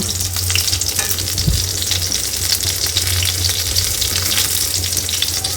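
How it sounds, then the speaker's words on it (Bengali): Eggplant slices fry in a pan with a loud, dense sizzle that runs without pause, while a low hum sits underneath. "এদিকে বেগুন ভাজা বসিয়েছি"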